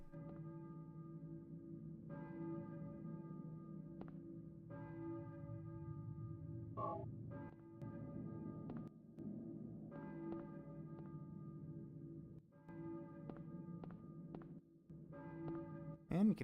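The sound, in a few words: church bell ringing in the distance in Silent Hill video game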